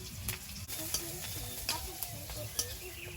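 Crushed garlic and split green chillies sizzle in hot oil in a pan as fenugreek greens are cooked, with a steady frying hiss and scrape-like stirring knocks throughout, close and alone without voices.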